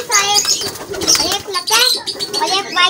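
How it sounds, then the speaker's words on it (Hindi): Caged pigeons, a lakka fantail among high-flying parwazi birds in new cages, coo and flap their wings close by, mixed with someone talking over them. "एक हमारे पास लक्का है और बाकी सारे हमारे पास परवाजी कबूतर हैं।"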